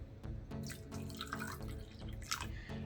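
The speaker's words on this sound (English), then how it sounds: "So I'm just going to pour in my eggs, and some water" Beaten eggs and water poured into a bowl for a Nigerian fish roll dough, heard as faint, close dripping and splashing trickles in uneven bursts, with no voices.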